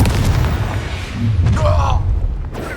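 A Confringo spell blast in the Hogwarts Legacy video game, heard as deep booming bursts in the middle of the clip, with a voice talking over the combat noise.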